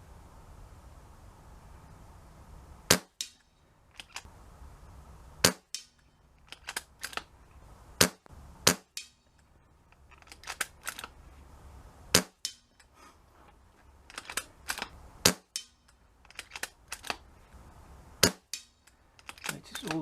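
An air gun with an adjusted hammer spring fires pellets at a target on a farm field range, sharp single shots cracking at irregular intervals of a second or two, each followed by a short ringing tail over a quiet outdoor background.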